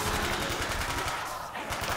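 Rapid automatic gunfire in a zombie shooter game, a dense continuous rattle of bursts that stays loud for the whole stretch with no break.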